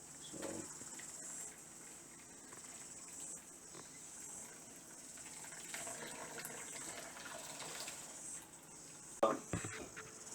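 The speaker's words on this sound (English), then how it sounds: "So strain it. It's hot." Hot beetroot water strained through a muslin cloth from the pulp trickles and gurgles softly into a vessel, a faint, uneven pour with small splashes and a louder slosh near the end.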